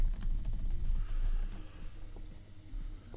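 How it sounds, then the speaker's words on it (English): Typing on a computer keyboard, a steady stream of soft, close key clicks over a low background hum, with no talking. "I'm just gonna type something."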